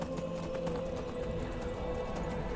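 Horse hooves clip-clopping in Skyrim, a steady rapid patter of hoofbeats over constant game music and ambience, with a faint tonal drone throughout.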